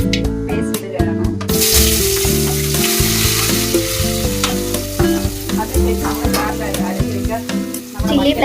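Crushed onion and tomato paste frying in a hot pan over mustard seeds, a loud, steady, close sizzle with stirring scrapes throughout.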